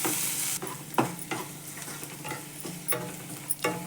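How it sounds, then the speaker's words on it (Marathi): Onion and carrot sautéing in a pan, a steady close sizzle broken by repeated scraping stirs of a spoon at uneven intervals, with no one talking. "परतू देते चांगलं."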